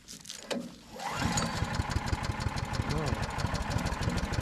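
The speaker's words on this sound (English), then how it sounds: "Predator powered wood chipper." A Harbor Freight Predator 6.5 HP chipper shredder engine starts and settles into a steady, rhythmic running chug close by, with light voices near the start.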